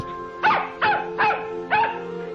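A puppy barks four times in a steady, evenly spaced series, close and clear against a faint background hum.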